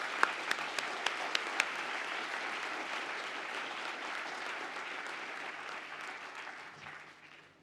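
A large audience at the SIM – University at Buffalo 2022 commencement ceremony applauds the newly presented graduates, a few sharp early claps giving way to sustained, even applause that fades slightly at the end.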